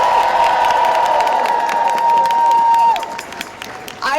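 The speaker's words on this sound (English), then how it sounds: "Please give them another round of applause" A crowd at a political rally outside the Consumer Financial Protection Bureau applauds and cheers in a dense, steady burst that fades after a few seconds, with a held tone underneath that cuts off.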